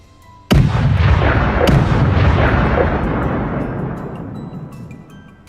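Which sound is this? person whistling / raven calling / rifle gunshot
rifle gunshot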